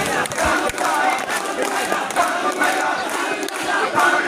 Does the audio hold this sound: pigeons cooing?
no